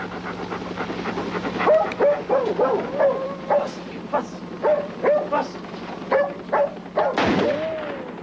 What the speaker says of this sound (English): The dog appeared to be confused.